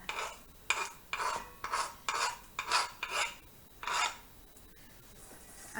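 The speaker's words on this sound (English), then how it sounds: "help you mash bananas with this other teeny tiny fork that I have" Ripe bananas mashed with a small fork in a bowl, a run of soft rhythmic scraping and squishing strokes roughly twice a second, close and quiet, then trailing off.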